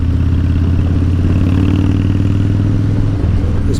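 Harley-Davidson-style motorcycle with a 103 cubic-inch engine running steadily, a deep loud low rumble with a constant throbbing pulse and some mechanical clatter, close by throughout with no talk.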